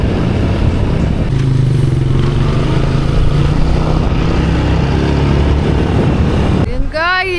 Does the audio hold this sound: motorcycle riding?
yes